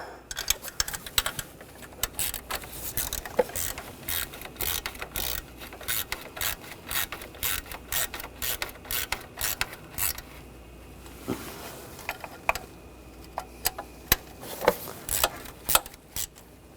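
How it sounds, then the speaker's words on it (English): A ratchet snugging down bolts on the coolant water outlet of a 2013-2022 Buick Encore engine: rapid, close clicking bursts of the pawl repeating in quick strokes, with brief pauses between runs and no talking. "we'll snug these down"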